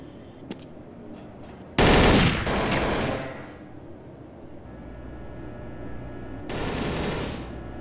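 Bursts of automatic gunfire from Counter-Strike: Source on the de_nuke map, two loud rapid sprays separated by a quieter stretch of background game noise.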